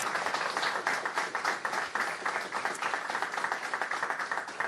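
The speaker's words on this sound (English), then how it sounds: "So how about a round of applause for the FCA team headed by Jeff Reynolds." An audience of community leaders gives a round of applause for the FCA team, with brisk, dense clapping that holds steady and close for the whole stretch, with no voices over it.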